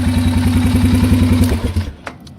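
A 2003 Honda Rincon 650 ATV engine idles with a steady, loud, close, lumpy thumping pulse, then cuts out near the end, leaving a few faint clicks.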